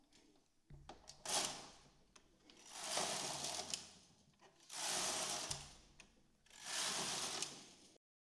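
A knitting machine working rib stitch rows, the carriage swept back and forth in four separate rasping, whirring passes, each a couple of seconds long with short quiet gaps between, close up and clear.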